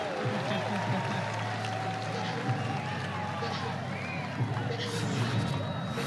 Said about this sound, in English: They're yelling Boone.